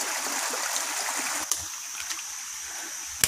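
Continuous bright rushing of the Belintiung river stream in the Borneo forest near a Dayak Tunjung village, steady and close, with a couple of faint knocks or splashes; no talking.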